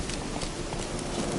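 Roach the horse's hooves clip-clopping in The Witcher 3 video game, a steady run of hoof beats over a dense, busy background with no clear talk.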